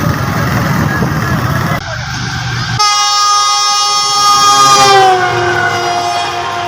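A Pakistan Railway train at a railway station: loud rumbling rail noise, then a long sustained horn-like tonal blast with many harmonics dominating the later seconds, close and loud.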